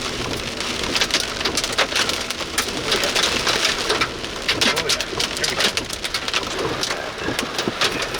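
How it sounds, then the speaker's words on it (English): Large hail pounds down during a rotating supercell storm, a dense, loud, crackling barrage of impacts on the surfaces close by, steady throughout with brief distant rumbles and no clear speech. "Oh, big hail."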